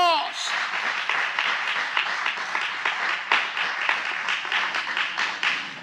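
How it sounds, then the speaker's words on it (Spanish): Strong congregation applause during a Spanish-language church service on the message of the cross, rising right after a brief spoken phrase into vigorous, uneven clapping with sharp individual claps standing out. "dele fuerte el aplauso al Padre, al Hijo y al Espíritu precioso de Dios"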